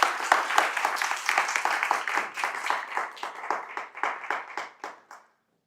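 An audience applauds to welcome a speaker at a talk, starting as a full burst of clapping that thins into fewer, distinct claps before stopping abruptly into silence.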